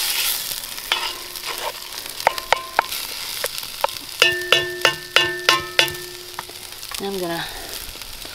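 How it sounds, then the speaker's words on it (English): Tomato paste sizzles in a hot cast iron Dutch oven over an open fire during a snowstorm, with a steady fry under a series of sharp stirring clinks and a brief voice. "You can hear that pan is good and hot."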